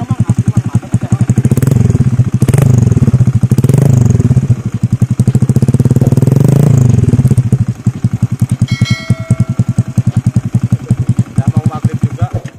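A modified Honda Vario 125 carburetor scooter engine runs close and loud, a rapid lumpy idle with several surging revs, while people talk over it.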